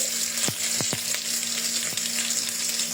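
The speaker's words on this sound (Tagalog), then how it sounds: "Sabay na natin itong ating luya. Bawang. Sabay ko na silang igigisa." Ginger and garlic sautéing in oil in a casserole give a steady bright sizzle, with a few sharp clinks of a spoon against the pot; no talking.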